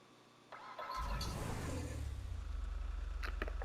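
An SUV resembling a Range Rover starts up in GTA Online: a brief starter crank, then the engine catches with a loud rising roar and settles into a steady, close, throbbing idle.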